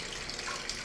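Water rushes steadily from the outlet of an Aquasana whole-house filter during a filter and UV bulb change, a continuous close hiss with no breaks and no voices.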